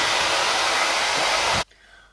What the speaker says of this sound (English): Obviously couldn't talk to you with my hairdryer on.